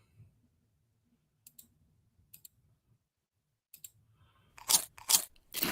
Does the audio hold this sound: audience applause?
no